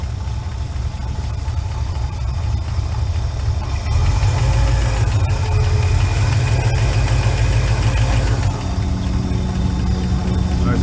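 A 1968 Chevelle V8 idles steadily and loudly up close, its low rumble carrying a ticking roughness from leaking exhaust gaskets; a faint aircraft drone passes overhead partway through.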